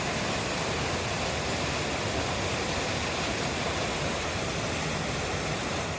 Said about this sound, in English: there's a pretty impressive waterfall down here